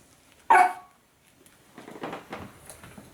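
A small dog gives one sharp, close bark, followed by faint scuffling and softer sounds in a quiet indoor room.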